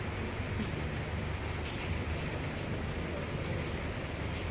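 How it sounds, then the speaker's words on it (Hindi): Light drizzling rain makes a steady, even hiss throughout with no distinct drops or pauses, loud and continuous without any voices. "रिमझिम रिमझिम हो रही है"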